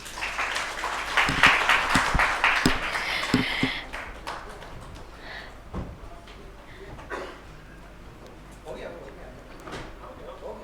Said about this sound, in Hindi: तालियां कम हो रही हैं।